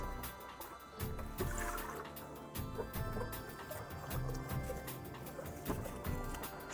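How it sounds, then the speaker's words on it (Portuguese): Oil drains from an oil-filled heater into a bucket, a faint continuous trickle and patter of liquid with a few irregular drips and clunks, heard close up. "Mas antes nós vamos drenar o óleo do aquecedor."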